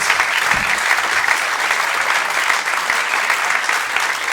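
A theatre audience at a live comedy podcast recording in Leicester Square claps loudly and continuously, a close, dense wash of applause with no break.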